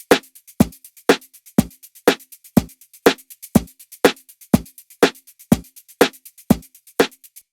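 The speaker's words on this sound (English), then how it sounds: "so I've dialed in this drum groove here and it sounds like this" Funky drum groove from the Funky Dry kit in Mars, tight dry kicks and snappy hits in a steady repeating pattern with softer ghost notes between them, close and alone.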